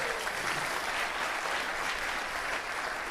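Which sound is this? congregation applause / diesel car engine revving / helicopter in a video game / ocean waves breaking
congregation applause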